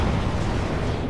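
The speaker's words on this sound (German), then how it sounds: "wenn die Dinger sterben, explodieren sie in einer fetten Flammenkugel" A fat fireball explosion from a dying Abomination in the video game Dragon Age: Origins, heard as a brief, steady, low rumbling roar with no distinct onset.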